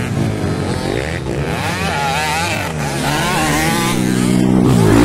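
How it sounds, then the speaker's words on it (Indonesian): Enduro racing motorcycles at a local final heat rev loudly and continuously, engines rising and falling in pitch as they pass close by and accelerate. "kapaka-paka ang motor ni Eloy"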